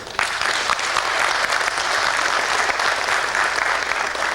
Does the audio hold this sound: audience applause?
yes